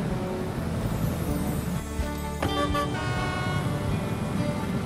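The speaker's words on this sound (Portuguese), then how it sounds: "Mas a buzina é maneirinha." In a Paw Patrol video game, a vehicle horn toots briefly and is mixed into continuous loud game music and engine-like background noise.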